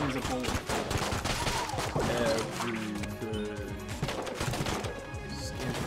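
Rapid bursts of gunfire and bullet sounds from the video game Enter the Gungeon, dense and continuous with crashing hits layered over busy game noise.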